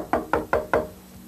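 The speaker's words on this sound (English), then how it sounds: "Maybe I better knock." Four sharp knocks on a door, evenly spaced and close, followed by quiet.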